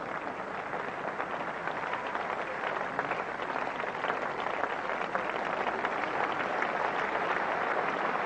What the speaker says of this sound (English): And the applause is for the 50 coming up